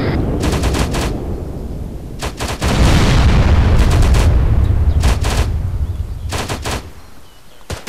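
Bursts of automatic gunfire and rifle shots crack in a TacBF military shooter on the Sahrani map, clustered in rapid volleys with a heavy rumbling stretch between them.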